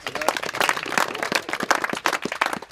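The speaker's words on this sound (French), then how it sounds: "Oui, on applaudit." Audience at a mountain-bike event presentation clapping, irregular and fairly loud claps with a somewhat sparse, uneven texture throughout.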